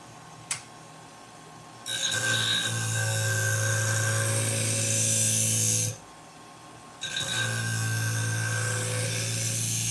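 Sewing scissors are ground on a powered sharpener in two sustained, steady whirring passes of several seconds each, separated by a short quiet gap; close and fairly loud, no talking.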